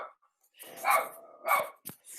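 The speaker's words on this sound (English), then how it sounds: "I got interrupted by a lot of barking" A dog barks in short bursts, two strong barks and a sharper yip at moderate distance, with quiet stretches between them.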